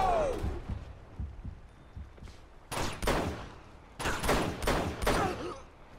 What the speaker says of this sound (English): Bro, you hear this gun?